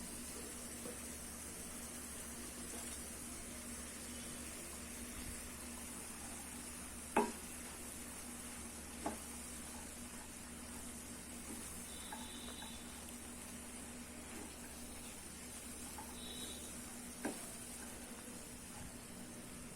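Boiled peas and bun pieces stir-fried in a pan for Salem-style street bun masala, a soft steady sizzle running throughout with a few sharp scraping clicks from the spatula and no voices.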